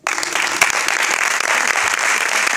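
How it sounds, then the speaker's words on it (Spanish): Steady applause from a crowd for a town mayor at a presentation event in Almería, Spain, dense clapping sustained at an even level throughout with no voices standing out. "le damos un aplauso"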